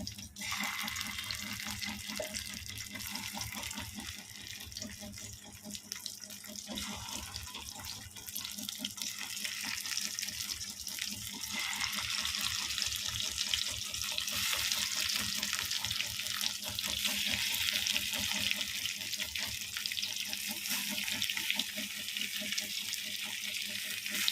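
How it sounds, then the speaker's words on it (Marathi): A continuous crackling sizzle of stuffed eggplants frying in hot oil in a wok, steady and close, with a faint rhythmic clatter underneath and no talking. "तेलामध्येच एक एक आपण अशी वांगी सोडून घेऊया"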